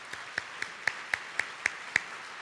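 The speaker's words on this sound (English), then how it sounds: "Let's give them a round of applause" Scattered clapping at a charity sports event in Tulsa: several sharp, evenly spaced claps, fairly faint and sparse rather than full applause, with no talking.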